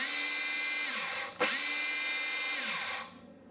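A Makita DHR264 36V cordless hammer drill spins in plain drilling mode, a loud steady whine that briefly drops and restarts before winding down, running alone with no talk.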